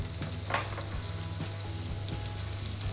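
A cordon bleu fries in hot oil in a pan, one side already browned, giving a steady, dense sizzle with faint crackles throughout and no talking.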